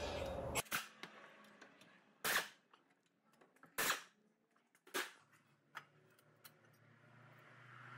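A pneumatic impact gun with a 17 mm socket on a swivel loosens front brake caliper bolts on a 2012 Kia Forte Coupe, firing several short, loud rattling bursts separated by pauses in an otherwise quiet garage.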